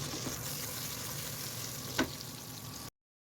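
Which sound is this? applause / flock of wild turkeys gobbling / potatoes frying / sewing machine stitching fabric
potatoes frying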